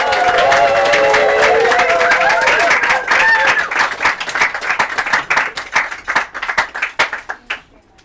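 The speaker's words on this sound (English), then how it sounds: "So everybody, big round of applause." A small audience at a poetry reading applauds a poet and flute player, with dense clapping and a few voices at first, then thinning out into scattered individual claps that fade toward the end.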